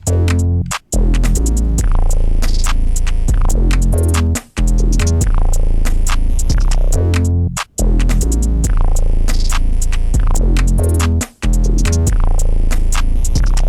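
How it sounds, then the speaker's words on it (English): A loud, full electronic drum beat plays with deep booming bass, punchy kicks and rapid hats, pausing briefly for dropouts every few bars. "Let's just go all the drums together and it sounds like this."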